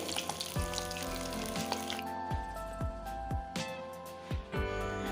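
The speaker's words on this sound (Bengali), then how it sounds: "সব মাছগুলোকে এভাবে ভেজে নিচ্ছি" Fish fry in oil in a wok with a faint sizzle under louder background music, punctuated by several sharp thuds spaced irregularly throughout.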